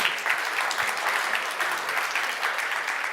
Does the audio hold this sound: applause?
yes